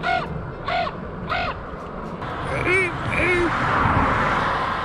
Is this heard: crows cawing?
yes